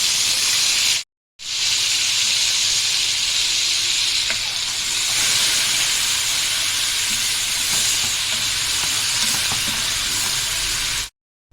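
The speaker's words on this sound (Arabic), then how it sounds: "حط بقى نص التتبيله بتاعتي، هنزل عليها في الزيت بالشكل ده" Liver and marinade sizzle in hot oil, a steady, close frying hiss that carries on almost unbroken apart from one brief gap near the start.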